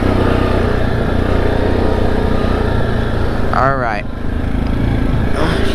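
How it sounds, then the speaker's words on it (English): Yamaha Grizzly ATV engine droning steadily while riding through wooded hills, loud and continuous, with someone talking over it. "This Grizzly gives a good ride."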